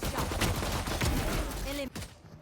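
Gunfire in Valorant during a VCT Game Changers EMEA esports match: rapid shots crack in quick bursts under voices on the broadcast.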